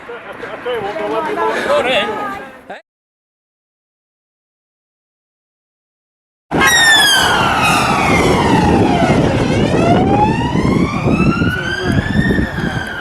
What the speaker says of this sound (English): A load of cop cars have come by.